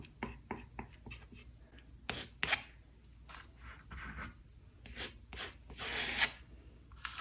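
A squeegee scrapes paint across a canvas in a quiet room, a series of close, soft rasping strokes in irregular bursts with short pauses between them, and no talking.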